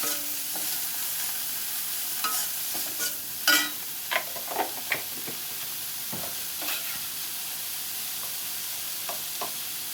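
Prawns frying in a little oil, giving a soft steady sizzle with scattered crackles and pops and the occasional scrape of a stirring utensil, heard close and alone.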